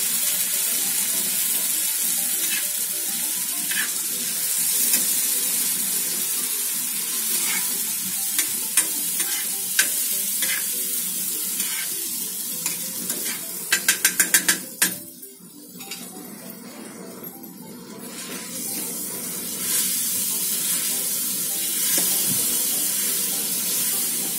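Crushed ginger-garlic masala sizzles steadily on a tawa for Mumbai-style tawa pulao after water goes in, with stirring scrapes and a quick run of sharp clicks before a brief lull and the sizzle returning.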